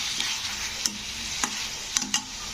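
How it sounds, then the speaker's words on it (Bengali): Parboiled potatoes fry in a pan under a steady, close sizzle, with a few sharp spatula scrapes and taps as they are stirred. "তো ঢাকাটা খুলে আবার একটু আমি নাড়াচাড়া করে দিলাম আলুটাকে।"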